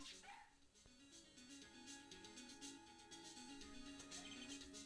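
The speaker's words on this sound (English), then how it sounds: "He's a canine police dog still in training." A police dog still in training barks and yips in short, clear bursts over light background music in a Phoenix Wright Ace Attorney video game.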